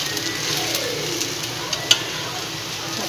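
An onion rava uttapam cooking on a pan gives a steady, moderate sizzling hiss with a few light ticks and clicks.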